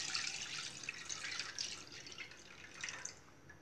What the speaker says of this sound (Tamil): மில்க் ஆட் பண்ணிக்கலாம்.